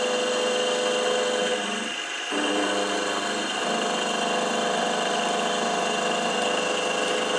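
A milling cutter surfaces an XC48 steel plate, giving a steady, loud mechanical whine and drone with the machine's engine-like hum underneath, briefly dipping in pitch and level before settling back into a continuous cut.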